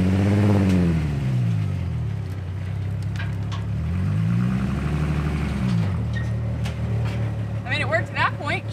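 An off-road vehicle engine revs and rumbles loudly up close as it drives, rising and falling in pitch twice, with people talking over it throughout.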